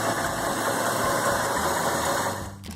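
A 1965–1969 Chevrolet Turbo Thrift 230 inline-six runs steadily and close, its rough, even drone holding for a couple of seconds before tapering off toward the end.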